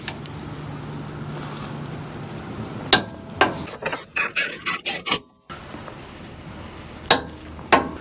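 Bolts on a power steering rack of a 4.6L V8 Toyota Tundra are tightened, with a run of short rasping, ratcheting strokes in quick succession, a pause, then two more isolated clicks close to the microphone.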